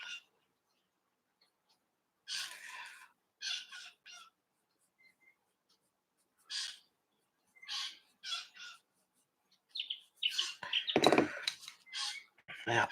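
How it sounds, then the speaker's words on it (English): A parrot gives scattered squawking calls in bursts, some clustered and some spaced apart, fairly close, with quiet gaps between them. "That bird that you can hear at the moment, that's a parrot."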